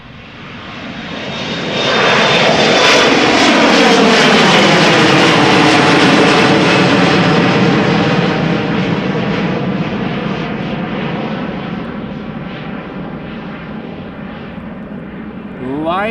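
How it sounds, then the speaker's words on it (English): KLM Embraer 175 jet departing Amsterdam Schiphol and climbing steeply, its engine roar swelling fast to a loud peak, then a long sweeping whine and rumble that slowly fades as it pulls away. "Embraer 175 going to Düsseldorf, KLM flight"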